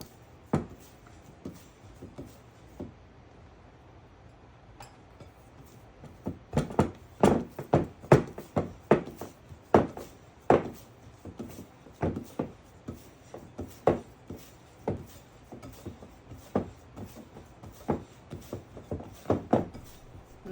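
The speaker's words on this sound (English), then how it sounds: "Now time for some stretch and folds." Purple sweet potato sourdough being stretched and folded by hand, giving sharp, irregular sticky slaps and taps, sparse at first and then denser and louder, with quiet gaps between.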